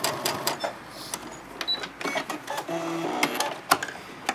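A sewing machine backstitches a seam on a diaper bag in short, rapid bursts of mechanical clatter separated by brief pauses, fairly close and alone with no talking.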